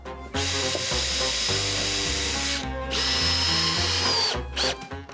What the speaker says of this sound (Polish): przykręcamy je z tyłu, żeby ją usztywnić i ustabilizować